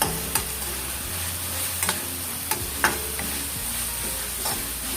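Dry fish and potato curry with soy sauce cooks in a pan with a low, steady sizzle, broken by a few sharp clicks and scrapes as it is stirred.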